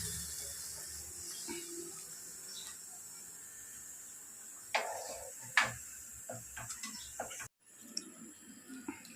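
Water poured into a pot of simmering chicken curry, a soft, quiet trickle and splash with a few brief clinks of the pot, close up in a calm kitchen.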